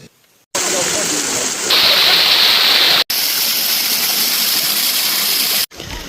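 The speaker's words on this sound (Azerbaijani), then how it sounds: "Şələlənin səsi, dağın havası, buz kimi suyu adamın bütün yorğunluğunu aparır" Daşağıl waterfall in the mountains near Oğuz, Azerbaijan rushes with a loud, continuous roar of falling water, close by, broken by short cuts.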